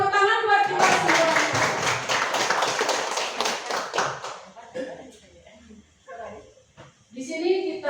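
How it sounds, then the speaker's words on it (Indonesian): A group of teachers at a school training session clapping together, a brief burst of hand claps that fades after a few seconds, followed by scattered talk nearby. "Tepuk tangan buat kita semua."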